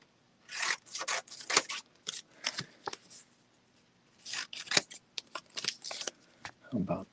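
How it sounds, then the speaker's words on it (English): Scissors snipping through paper in quick bursts of crisp, rustling cuts, close and fairly loud, with short pauses between runs of strokes and no talking. "Paper cutting now."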